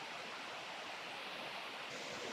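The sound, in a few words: creek water flowing over rocks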